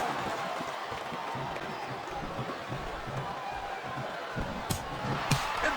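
Arena crowd noise from the WWE SmackDown vs. Raw 2007 wrestling video game, a continuous low murmur of fans with a couple of faint slaps or thuds near the end.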